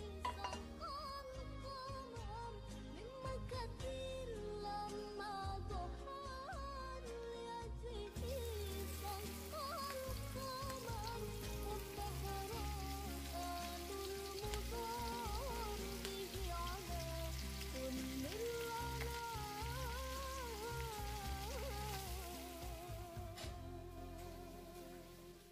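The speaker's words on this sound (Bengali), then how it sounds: "মাছটা ভেজে নিচ্ছি।" Fish frying in a pan in a home kitchen gives off a steady, dense sizzle that runs unbroken for the whole stretch, with tuneful background music underneath.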